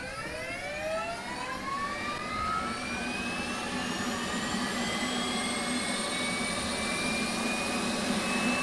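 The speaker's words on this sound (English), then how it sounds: "let's go ahead and put the APU on" An F/A-18 Hornet's auxiliary power unit spins up from inside the cockpit, a loud continuous turbine roar with whining tones climbing steadily in pitch throughout, no voices over it.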